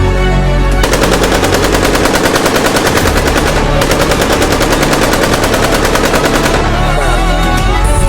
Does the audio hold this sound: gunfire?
yes